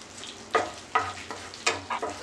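Butter melts in a pan with a soft, low sizzle, broken by several sharp scraping strokes of a spatula. The sound is fairly faint and close, and no one speaks.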